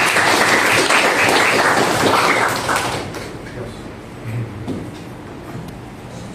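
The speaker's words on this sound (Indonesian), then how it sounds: "tepuk tangan." Applause from a class of students at the end of a subnetting lesson, loud dense clapping for about three seconds that then thins out and fades into quieter room noise with scattered claps.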